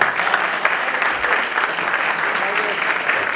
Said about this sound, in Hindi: तालियां लगातार बजती रहनी चाहिए, लगातार बजती रहनी चाहिए।